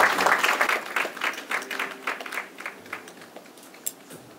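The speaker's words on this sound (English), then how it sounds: "Shall we give her a round of applause as she takes her seat?" A burst of audience applause at an investiture ceremony, loud at first and then thinning into scattered claps that fade out over a few seconds.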